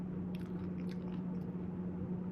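Soft crunching bites and chewing of a crispy, chewy pistachio-filled pastry close to the mic, a few faint crisp crackles over a steady low hum, no talking.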